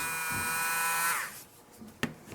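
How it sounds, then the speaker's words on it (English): A small Dremel hand drill bores holes in an Ork Gretchin miniature, giving a close, high-pitched whine that cuts off after about a second, followed by a couple of faint knocks. "using a little hand drill, a little Dremel, and drilling little points"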